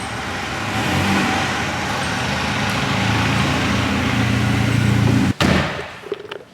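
Ford Escort RS Cosworth with a 300 bhp engine, running loud and close with a steady sustained roar that cuts off abruptly near the end, leaving a few faint trailing noises.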